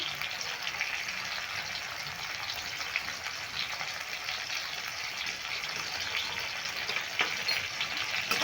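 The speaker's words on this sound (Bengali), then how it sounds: "নুন আর দিয়ে একটু নেড়ে নিচ্ছি" Chana dal cooking with bottle gourd just after salt goes in, a continuous bright sizzling hiss with soft scraping as the pot is stirred, steady and close throughout.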